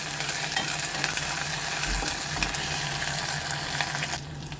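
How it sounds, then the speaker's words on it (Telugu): Ginger garlic paste fries with onions in a pan for a spicy phepsa masala curry, a steady close sizzle with occasional stirring scrapes and a brief break near the end. "ఇప్పుడు మనం దీనిలో జింజర్ గార్లిక్ పేస్ట్ వేసుకుందాం"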